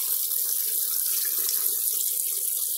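Water runs steadily while gravel is washed during prospecting at Reedy Creek, a continuous close splashing flow with no pauses and no voices.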